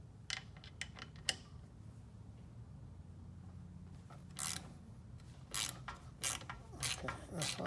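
Wrench or ratchet cranking a heated bolt on a Can-Am Spyder F3 foot peg, heard as scattered metallic clicks and ratcheting bursts over a low rumbling background, moderately close and otherwise quiet.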